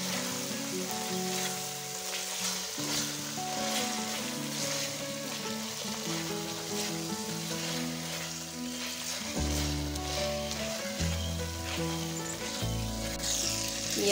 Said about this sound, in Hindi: ये अंडे भी इसमें शामिल करेंगे और इसे मसाले में भुनेंगे अंडों को भी।